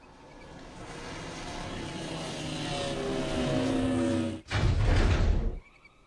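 A Star Wars Rogue One pinball table in Pinball FX plays an aircraft flyover: a roaring engine wash that swells steadily, cuts out for an instant, then bursts back loud before dropping away abruptly.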